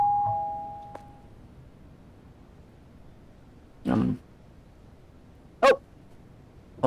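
A doorbell intercom rings in a haunted Japanese apartment building horror game, with two short electronic chimes a couple of seconds apart over a quiet hum, after a faint tone at the start.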